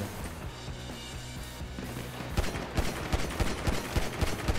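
Pistol gunfire in GTA 5 Online during a pistols-only deathmatch on the Nuketown map: sharp, rapid shots crack out in an irregular burst over steady background game noise, getting denser and louder toward the end.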